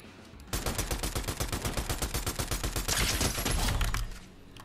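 Rapid automatic gunfire in Fortnite, a dense, evenly spaced burst of shots lasting a few seconds, loud and close with no talking.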